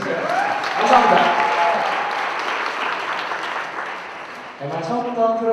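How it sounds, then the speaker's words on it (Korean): Audience applause at a live stage event, a steady wash of clapping that fades slightly, with voices and music-like tones coming in near the end. "박수 한 번 해주시고요"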